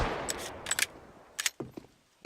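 Desert Eagle pistol shots in a CS:GO professional match, a scattered series of sharp cracks with decaying tails, some close and loud, others fainter, ending in an abrupt loud burst.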